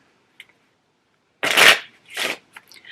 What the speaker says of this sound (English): we can just put that king back in and shuffle